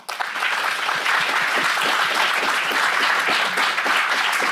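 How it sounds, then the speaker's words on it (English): A round of applause at a Yuba City Council meeting: dense, even clapping from the room starts abruptly and holds at a steady level for several seconds, with no talk over it. "So let's give them a round of applause."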